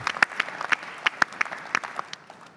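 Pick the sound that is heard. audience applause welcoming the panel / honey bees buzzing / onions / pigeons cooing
audience applause welcoming the panel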